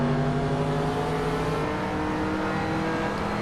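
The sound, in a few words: race car engine in Hot Wheels video game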